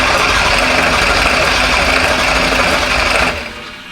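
A supercharged burnout truck engine runs loudly and steadily at close range on its first start, a dense mechanical clatter that holds for about three seconds before dropping off sharply near the end.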